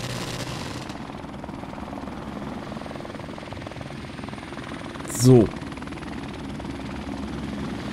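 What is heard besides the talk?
helicopter flying overhead in Call of Duty: Modern Warfare Remastered video game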